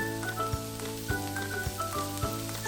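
Onions with a little salt sauté in a pan for poha, giving a steady close sizzle with faint stirring bursts about once a second over a sustained tonal background.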